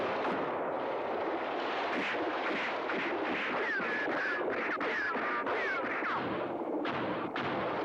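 Gunfire in a 1965 French adventure series set in the desert, sharp cracks and booms firing irregularly over a dense noisy soundtrack, with a few whistling ricochet-like sweeps midway.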